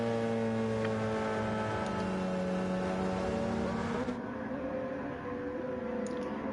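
LMP1 race cars in a racing game at Daytona produce a loud, sustained, high-pitched engine drone with layered revving tones from several cars, steady throughout with a slight drop in intensity near the end.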